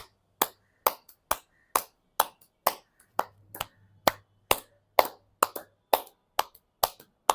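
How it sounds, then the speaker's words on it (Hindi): Sharp, loud hand claps ring out one by one at a steady, slightly uneven pace, more than a dozen in a row, with a faint low hum between them and no talk. "जोर जोर से ताली बजाएंगे 10 बार।"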